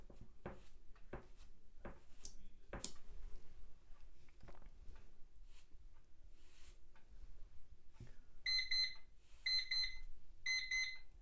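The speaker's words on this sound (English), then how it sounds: "That's the timer." Quiet indoor painting session with soft brush and sponge taps and handling noises, then a small timer alarm goes off near the end in three bursts of rapid electronic beeping.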